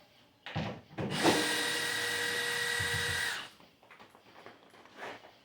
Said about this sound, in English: I'm shooting screws everywhere across there